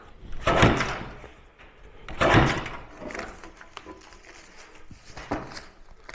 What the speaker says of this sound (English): I've got a paper cutter out here, and I just cut the strips of